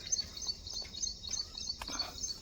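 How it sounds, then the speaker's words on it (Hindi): Various birds chirp and call outdoors in the early morning, with bright, repeated tweets coming from moderately near over a quiet background. "पक्षी परिंदों की अलग अलग आवाज़ें आ रही हैं।"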